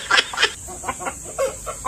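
A rooster clucks and crows in short repeated bursts close by, with a steady background hiss.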